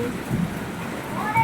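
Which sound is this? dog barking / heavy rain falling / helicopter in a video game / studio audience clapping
heavy rain falling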